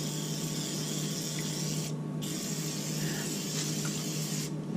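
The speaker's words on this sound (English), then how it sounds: "Spray some olive oil over here." Olive oil sprayed onto a Power Smokeless Grill XL: a steady close hiss runs almost continuously, broken by two brief gaps, over the grill's constant low electrical hum.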